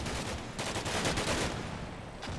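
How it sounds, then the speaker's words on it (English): Gunfire in the war game Combat Mission: Black Sea, heard as dense, continuous crackling of shots and bursts from mixed weapons, steady and moderately loud across the whole moment. "Lots of shooting is happening."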